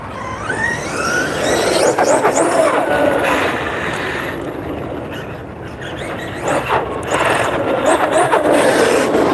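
An Arrma Kraton 8S remote-control car with a Mamba X system on 8S power runs continuously, its motor whine rising and falling in pitch with bursts of squealing as it accelerates, a steady loud roar throughout.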